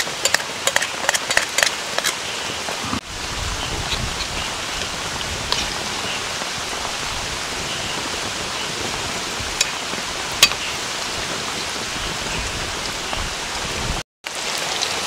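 Heavy rain pours steadily over a riverside campsite, a dense, continuous hiss of drops with sharper patter on nearby surfaces, loud and close, with no talking.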